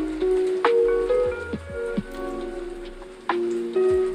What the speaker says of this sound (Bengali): এগুলো ভেজে নিচ্ছি।